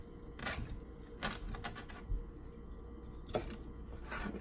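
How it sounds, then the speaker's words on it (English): A knife dices a pasilla pepper on a cutting board in quick, crisp taps that come in short irregular clusters, close and fairly quiet, with no talking. "so now we're going to chop it. I'm just going to make small dices."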